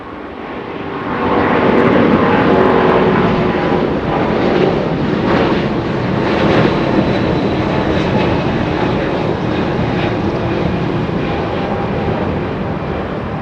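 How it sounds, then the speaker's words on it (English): A United Airlines Boeing 777 with Pratt & Whitney 4000 engines departing Los Angeles International Airport, a loud, steady jet roar that swells after a second and holds, broad and rushing, slowly easing toward the end. "Pratt Whitney 4000 engines, United Airlines, a 777 getting a move on"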